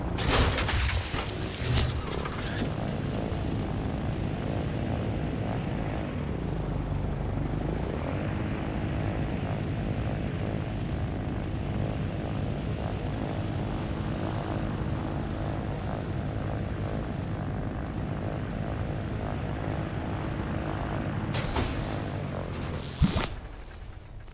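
A helicopter engine idles in the video game Trailmakers, a continuous droning hum with steady rotor tones. Brief louder bursts come near the start and end.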